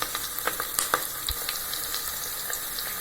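Tomato gravy base sautéing in a pan, a soft continuous sizzle with scattered small pops and a couple of stirring clicks, fairly quiet and close, no voices.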